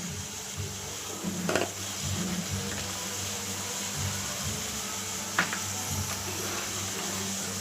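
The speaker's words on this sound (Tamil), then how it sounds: "இப்போது இஞ்சி பூண்டு போட்டு நல்லா அது வதங்கி வரட்டும்" Ginger and garlic sautéing in hot oil give a steady, close frying hiss with a faint crackle and a couple of brief utensil clinks, with no talking.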